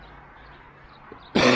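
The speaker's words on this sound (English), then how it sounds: "Still got me cough." A single loud, sudden cough close by, breaking through near-silence at the very end, on a walk through a park in Redcar.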